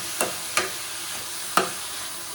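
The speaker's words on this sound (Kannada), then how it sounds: "ಈಗ ಟೊಮೆಟೊಸ್ ಆ್ಯಡ್ ಮಾಡ್ಕೊಳ್ತಾ ಇದ್ದೀನಿ." Tomatoes stirred in a frying pan give three scraping strokes over a faint steady sizzle, close by and moderately loud.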